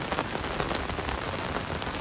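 Heavy rain pours down in Los Angeles, a dense, loud, constant splattering hiss on hard surfaces with no voices.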